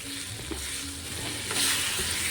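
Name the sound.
alu vadi pieces being mixed in a pan of tempering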